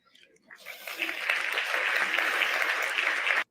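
Audience applause at a TEDx talk in Bend, Oregon, swelling from a few scattered claps into a steady, full round that holds for a few seconds and then stops abruptly.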